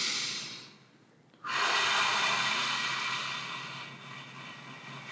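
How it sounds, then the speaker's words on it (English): A single long, deep inhalation before a breath hold, starting after a brief quiet gap and then a steady rushing airflow that slowly fades, close and clear with nobody speaking. "I'm going to take a deep,"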